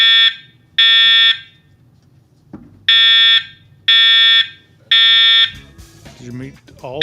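A fire alarm system under test blares in loud, evenly spaced electronic beeps, five long tones with short gaps, close and dominant, with a voice briefly between them and at the end.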